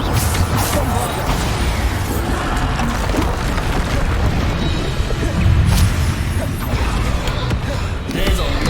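Repeated Bombarda blasting spells from Hogwarts Legacy boom through a dense, continuous barrage of low rumbling impacts and crashes, with a heavier blast near the middle, all loud and mixed with game combat noise.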